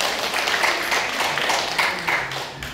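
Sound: audience applause at a year-end gathering

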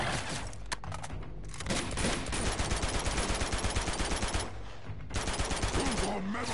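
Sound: gunfire in the video game Uncharted 2: Among Thieves

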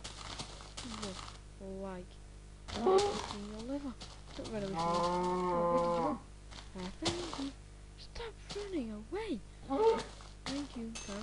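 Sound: cow mooing in Minecraft video game

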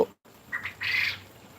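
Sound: caged birds squawking

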